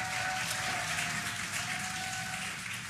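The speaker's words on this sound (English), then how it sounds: "You can hear the crowd here." A crowd cheers and claps steadily from a distance as a SpaceX Dragon capsule carrying Sunita Williams and Butch Wilmore descends under drogue parachutes toward splashdown, a dense, continuous wash of noise with a faint steady tone running through it.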